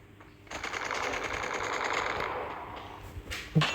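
Shooter video game gunfire plays as a sustained automatic burst lasting a few seconds, then fades and ends in a couple of sharper single shots.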